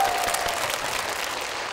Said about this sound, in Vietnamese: Một tràng vỗ tay nữa cho bạn Linh.